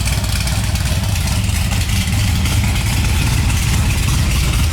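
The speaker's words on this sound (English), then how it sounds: "sound of a cammed LS7" A cammed LS7 V8 in a 2007 Corvette C6 Z06 idles loudly in a dyno setting, giving a steady, choppy low rumble that holds even throughout.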